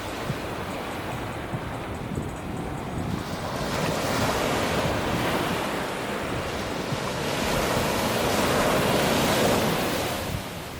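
Ocean surf rolling onto the beach at Pacific Beach, San Diego, a steady broad wash of breaking waves with gusty wind buffeting the microphone, no voices.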